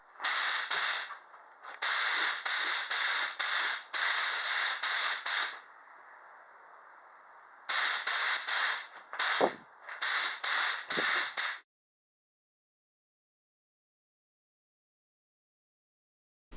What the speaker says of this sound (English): I ended up putting on 4 coats of spray lacquer.